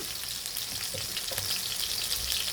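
Garlic frying in plenty of oil for pork binagoongan, a steady close sizzle with light crackles and a few soft stirring knocks, no voices.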